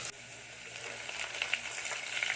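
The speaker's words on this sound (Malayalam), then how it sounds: "ശേഷം നമ്മൾ അരിഞ്ഞു വെച്ച ഉള്ളിയും കറിവേപ്പിലയും ഇട്ട് ശേഷം നമ്മൾ വലിയ ജീരകം ഇട്ടിട്ട് നന്നായി വഴറ്റി കൊടുക്കുക." Sliced onion, curry leaves and fennel seeds sautéing in a pan for a spicy mackerel fish curry, a soft, steady close sizzle with faint crackles and no talk.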